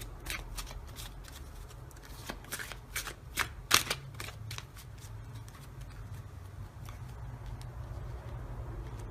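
Oracle cards being shuffled by hand, a quick run of crisp riffling flicks up close, peaking briefly, then fading into quiet background hum.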